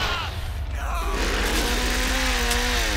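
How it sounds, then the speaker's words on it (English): A chainsaw in the Texas Chainsaw Massacre video game revs hard, its buzzing whine rising and wavering loudly after a short crash, with a little speech underneath. "Because I'm revving my chainsaw like crazy."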